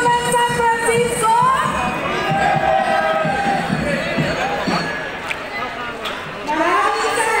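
A high school crowd cheers and shouts at the opening of a sports event in an indoor sports complex, loud and sustained, with a voice calling over the din.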